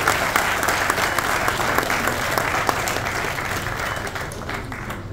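An audience at a book launch for an industry minister's publication claps steadily, a dense wash of applause that gradually fades over about five seconds with no voices.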